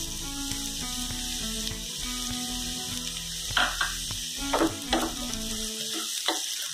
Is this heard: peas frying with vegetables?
yes